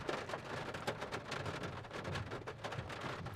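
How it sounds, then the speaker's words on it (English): Dense, steady patter of hail mixed with rain striking a vehicle during a storm chase in Minnesota, with sharp clattering impacts throughout and no one talking. "All right, we're starting to get some hail again."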